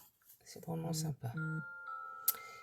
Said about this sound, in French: Désolée pour le bruit de mon téléphone.